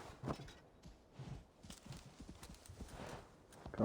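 A horse trots in Assassin's Creed Valhalla with quiet, rhythmic hoof clip-clops heard fairly faintly throughout, with no talk.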